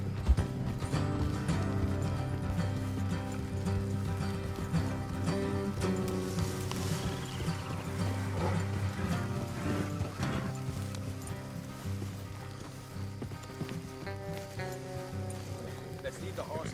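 Horses' hooves on a trail in Red Dead Redemption 2: a steady, soft clip-clop of riding under continuous character dialogue and a low tonal music bed.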